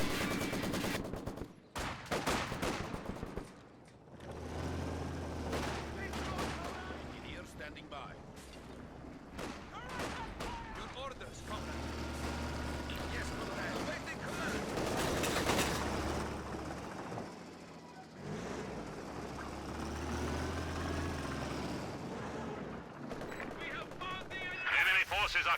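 In a Company of Heroes 2 match, Maxim machine guns and other weapons fire in sustained rattling bursts and scattered single shots, under continuous energetic commentary.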